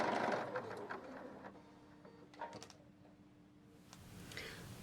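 A sewing machine stitches a fabric square onto a corner, a soft whirring run that fades, with light clicks of fabric handling and a faint steady hum.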